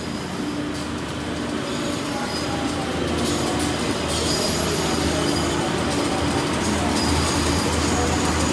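Indonesian commuter train KA Arjonegoro (Sidoarjo to Bojonegoro route) pulling away from a station platform, with a loud continuous rumble of wheels and carriages, squealing rails and rhythmic clatter building steadily throughout, no talking.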